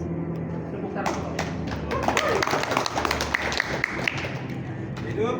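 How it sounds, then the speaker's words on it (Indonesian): Scattered clapping and thumps at a meeting in Banten, uneven and irregular, mixed with voices and cheering from people in the room. "Tepuk tangan Pak"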